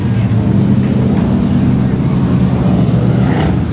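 Factory stock race cars at ShowTime Speedway restarting after a caution, their engines a loud, steady, dense roar that holds throughout with no break.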